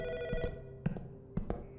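An old-fashioned telephone bell rings in the horror game Autopsy Simulator, two short double rings of bright metallic tone, close and clear.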